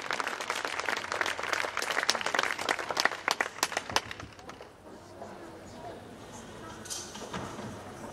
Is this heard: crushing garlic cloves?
no